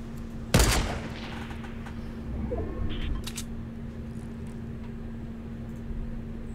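A single loud sniper rifle shot in Fortnite cracks early and trails off. Faint game ambience and a few small clicks follow.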